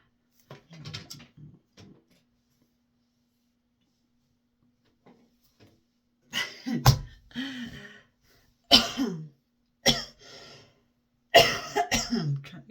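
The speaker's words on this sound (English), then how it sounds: "I'm trying to cough this crap up." Several harsh coughs in short bursts from one nearby person, clustered in the second half after a quieter stretch with a few softer sounds at the start.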